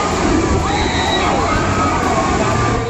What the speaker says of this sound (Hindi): ये डरावनी चीख उन लोगों की है जो इस मंजर को अपनी नजरों से देख रहे थे